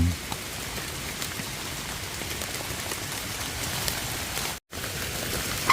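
Steady rain patters on a hard surface nearby in rural Thailand, an even wash of dense drops with a brief cut near the end.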